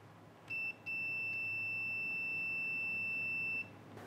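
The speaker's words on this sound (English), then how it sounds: "Only one should beep or give a value." A multimeter continuity tester gives a short beep, then a sustained steady tone lasting nearly three seconds, clean and high-pitched over faint background hiss, with no talking.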